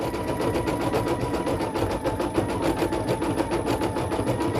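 A single-needle embroidery machine stitches a design onto a child's sweatshirt, giving a steady, close, rapid rhythmic clatter of needle strokes with a continuous motor hum and no pauses.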